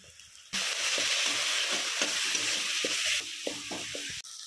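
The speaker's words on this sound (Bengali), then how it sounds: "মশলাটা ভালো করে কষিয়ে নিয়েছি" Spice paste of coriander, cumin and chilli powder fries in oil in a pan, a loud continuous sizzle with spatula scrapes that stops abruptly, then a quieter stretch and another burst.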